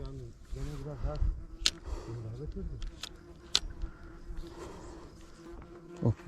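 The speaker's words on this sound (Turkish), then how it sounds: "Lan bu kadar arı nereden geldi?" Bees drone and circle close by, their pitch rising and falling, while someone talks over them outdoors while jig fishing for zander.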